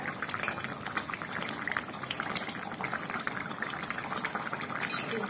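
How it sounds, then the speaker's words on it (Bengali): Silver carp fish curry with slit green chillies bubbling in a pan on a gas stove, a dense continuous crackle of small bursting bubbles, close and steady throughout. "কাঁচা লঙ্কা দুটো আমি চিড়ে দিয়ে দিলাম, একটু ফুটিয়ে নামিয়ে নেবো"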